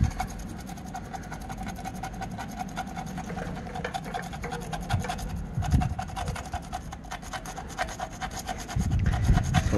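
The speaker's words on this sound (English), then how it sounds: "I'll go ahead and scrape it." Balancing-weight tape is scraped off a wheel with quick, rhythmic rasping strokes up close, a steady scratchy rubbing that grows heavier near the end.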